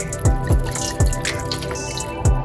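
Red wine glugs from an uncorked bottle into a cooking pot for mulled wine, loud and close, with a rhythmic series of gurgling pulses over a continuous pouring stream.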